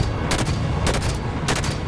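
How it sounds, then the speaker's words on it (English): Rapid gunfire bursts in the Halo 5: Guardians video game, loud close automatic shots in clustered volleys over a dense low rumble of battle, no talking. "I'm shooting right in the middle of a group of people and it's not even doing anything"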